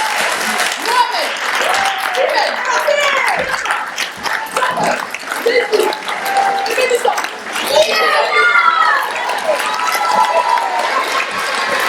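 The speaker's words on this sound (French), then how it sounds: "On l'applaudit quand même, merci." A theatre audience claps steadily in a dense, lively wave of applause, with scattered voices and cheers mixed in throughout.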